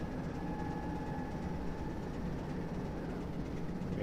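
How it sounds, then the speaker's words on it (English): A train passing the other way in Train Simulator 2021 on the Great Western Main Line, heard from a Class 47 diesel cab: a steady, even rumble with faint engine idle tones, constant in loudness, with no talk. "There's another train coming the other way."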